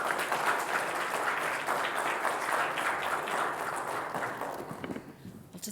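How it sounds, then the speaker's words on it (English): Conference audience applauding a speaker at a cystic fibrosis lay conference session, a sustained, fairly even clatter of many hands in a hall that tapers off toward the end. "Could we give her a big round of applause?"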